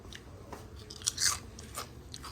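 Someone bites into crunchy, freshly fried fish outdoors, giving a few close, crisp crunches over steady background noise.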